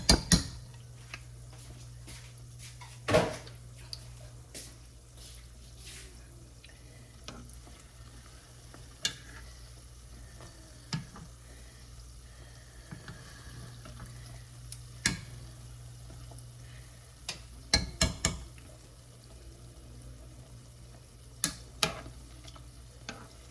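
Canned biscuit donuts fry in shallow grease with a low continuous bubbling sizzle and a low hum underneath, broken by scattered utensil taps and clicks, with no one speaking.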